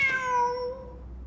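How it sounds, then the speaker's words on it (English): A cat in the video game Genshin Impact meows once, a clear drawn-out tonal cry that slides downward and fades over about a second, heard alone with no talk. "Wait, there it is! The cat!"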